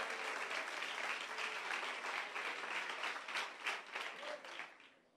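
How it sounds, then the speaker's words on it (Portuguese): A church congregation applauds during a sermon, thick continuous clapping swelling with faint rhythmic pulses before fading away at the end, fairly distant and with no one speaking. "Você pode aplaudir a Jesus,"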